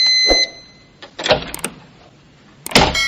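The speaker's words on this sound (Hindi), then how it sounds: "थोड़ी देर बाद दरवाजे की आवाज आई।" A door sound effect for a Hindi horror story: a creak and several sharp knocks or clicks of a door moving, spaced across about three seconds and heard alone, close and moderately loud.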